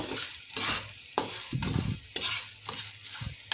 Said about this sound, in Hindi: अब ये हमारा है गोंद कीकर। हम इसको भी इसी तरह से फ्राई कर लेंगे।